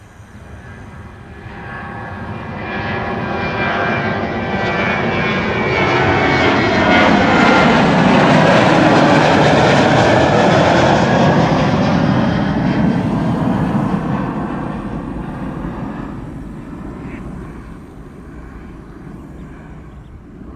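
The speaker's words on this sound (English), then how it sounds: "This is KLM, flight 1219. It is a 737-900 going to Stockholm." A KLM Boeing 737-900 jet departs Amsterdam Schiphol's runway 24, its engine roar swelling to a loud peak midway as it passes, then slowly fading into the distance.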